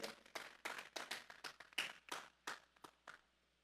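A small group at a Sunday church service claps in a loose rhythm, about a dozen distinct sharp claps spaced unevenly, fairly faint and recorded in a quiet room with no voices over them.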